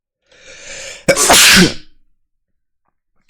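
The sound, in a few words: sneeze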